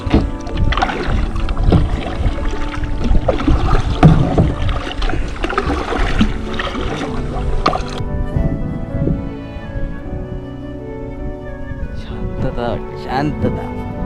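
A kayak moves over the sea at Achara Beach in Malvan, with rhythmic paddle splashes and water sloshing against the hull, close and steady, while people talk throughout.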